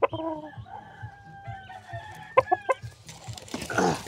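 A gamecock rooster clucks close by in short repeated calls, with a few louder squawks midway and a rustle at the end, over faint background noise.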